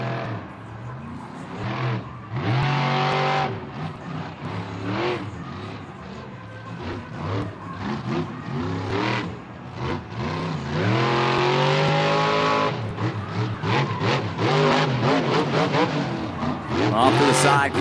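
A Monster Jam truck named Excalibur drifts through a turn at an Atlanta stadium, its engine roaring and revving loudly and continuously with pitch sweeps, under an announcer's voice and crowd noise.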